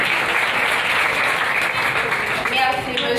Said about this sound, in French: Est-ce que vous pouvez m'aider à l'applaudir chaudement s'il vous plaît?